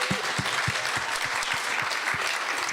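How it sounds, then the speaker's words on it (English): An audience at an informational gathering day gives a round of applause, dense, steady clapping with a few distinct nearby claps standing out. "give yourselves an additional round of applause"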